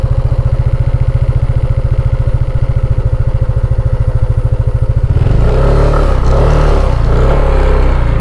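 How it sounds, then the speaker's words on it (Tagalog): A motorcycle, not built for off-road use, climbs a steep rural road: a loud, steady low engine throb near the mic, shifting to a rougher, straining pull with clatter partway through. "Hindi naman kasi pang off-road yung motor natin."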